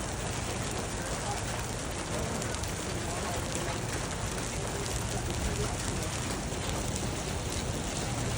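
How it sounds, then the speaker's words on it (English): Steady dense patter of hail and rain hitting surfaces in the southern Colorado mountains, a constant hiss and clatter throughout with no pauses. "It's hailing, guys."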